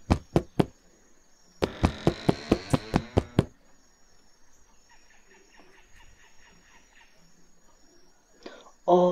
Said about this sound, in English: Until I hear knocking.